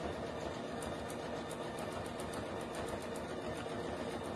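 Domestic sewing machine running steadily at high speed while free-motion quilting feather plumes, a continuous dense motor whir with a rapid needle rhythm, close and even throughout with no talk.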